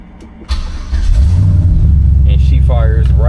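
A 1986 Chevy C10 pickup with a swapped-in LS V8 cranks and catches, settling into a loud, steady idle rumble with a whining fuel pump audible on top, while a person talks over it.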